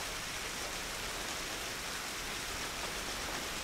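Rain falls steadily in the video game Tomb Raider, a soft, even hiss of drops at low volume with no voices over it.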